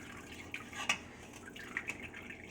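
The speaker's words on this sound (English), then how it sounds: "trying to drain the bag, because there is quite a bit of liquid in here" Liquid trickles and drips from a grain bag hung over wort while brewing a Berliner Weisse sour beer, faint, with a few distinct splashy drops over a soft background.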